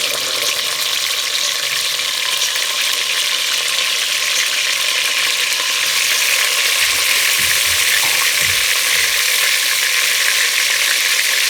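Chicken frying in ghee with ginger garlic paste for a white chicken korma makes a loud, steady, close sizzle that carries on without a break, with a few faint stirring knocks.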